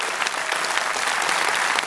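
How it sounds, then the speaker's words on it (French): A cinema audience gives sustained, even applause throughout, a dense wash of clapping at steady volume with no voices. "On peut l'applaudir, allez-y, mesdames et messieurs."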